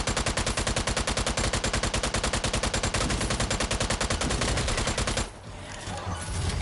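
Rapid automatic weapon fire in the Strange Brigade video game, a loud, steady stream of shots that runs for about five seconds, then breaks off into a lower rumbling tail.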